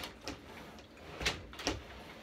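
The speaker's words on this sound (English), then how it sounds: "My sliding doors are kind of stuck on something." Sliding wardrobe doors catching on something as they are pushed open: a few soft scraping bumps and thuds spaced over a couple of seconds, faint and indoors, with no talking.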